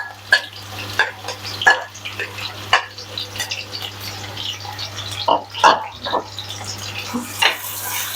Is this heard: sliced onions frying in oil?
yes